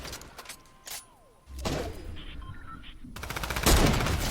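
Sniper rifle shots ring out in an online shooter game, with a sharp crack followed by a louder burst of gunfire near the end, over faint background game sounds.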